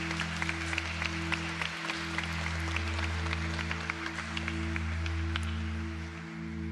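A church congregation applauds a welcome during a Sunday service, a steady patter of many hands clapping over a low hum, moderately loud and sustained throughout.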